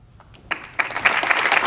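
Presidential debate audience bursting into applause to welcome the Republican and Democratic nominees, quiet at first then swelling into sustained clapping.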